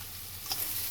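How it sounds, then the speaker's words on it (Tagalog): Shiitake mushrooms sautéing in a pan for a pork belly sisig, giving a steady, soft sizzle throughout with a brief brighter crackle near the middle, no voices. "ginisa ko muna yung shiitake mushroom"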